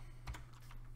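Keys tap on a computer keyboard in a quiet room, a short burst of a few soft, close clicks over a steady low hum.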